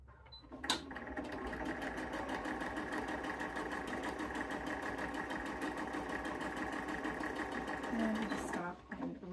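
A sewing machine stitching a T-shirt being made into a tote bag, a rapid steady mechanical whirr running for several seconds between brief starts and stops, close and fairly quiet.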